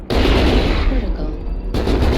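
An Ultra AC/10 autocannon on a Battlemaster mech fires in the video game MechWarrior Online, a loud, dense rapid burst of heavy shots that roars steadily up close for about two seconds.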